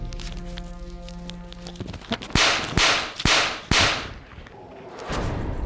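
Person being struck during a public fight, a series of sharp slapping cracks landing in quick succession after a stretch of muffled background noise, loud and close.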